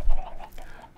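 A few short clucks from Minecraft chickens sound close and fairly loud, trailing off within about a second.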